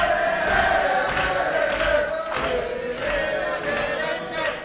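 A home wrestling crowd roars for Joe Coffey in a match against Tommaso Ciampa, a dense, sustained cheer with chanting swells and a few thuds rising and falling throughout.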